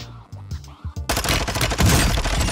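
Rapid video-game gunfire breaking out after a quiet lead-in, a dense fusillade of loud, close automatic shots continuing without pause for over a second.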